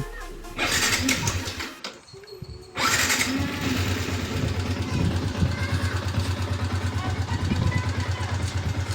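A Yamaha Sniper 150 motorcycle engine sputters, cuts out briefly, then catches and settles into a steady, close idle.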